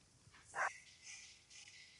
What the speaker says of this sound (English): I may have my dogs barking just a little bit.